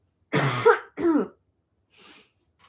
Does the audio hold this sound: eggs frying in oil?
no